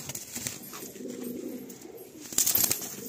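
Breeder pigeons kept for sale in Kolkata cooing softly and close by, a few low throaty coos rising and falling over quiet room noise, without talk.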